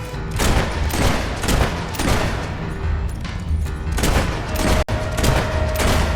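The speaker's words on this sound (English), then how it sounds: "Shooting them from a distance is a good idea." Rapid gunfire from shooting enemies in the video game Fable 3, a dense volley of shots and booms running steadily throughout, loud and close with no talk over it.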